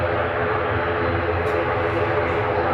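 An Airbus A320 on approach at Manchester Airport gives a steady, broad jet roar that holds evenly throughout, with no talk over it.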